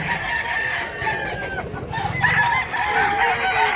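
Black Hennei roosters crow at a Cebu farm in Mantalungon, Barili, several drawn-out calls overlapping with clucks, fairly near and moderately loud over a steady outdoor hum.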